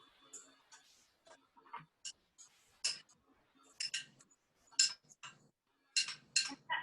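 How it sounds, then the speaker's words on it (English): Walnuts being chopped and broken apart on a board in a home kitchen at a plant-based cooking class, sharp irregular knife taps and clicks in scattered bursts, close and fairly clear. "Chopping the walnuts"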